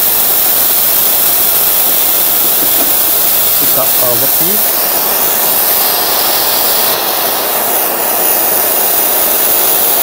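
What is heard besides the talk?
compressed air exhausting from ZK2 vacuum ejector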